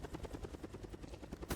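Helicopter waiting for exfil in Call of Duty: Black Ops Cold War Outbreak mode, its rotor chopping in a steady rapid rhythm, moderately close, ending in a brief sharp burst with no speech.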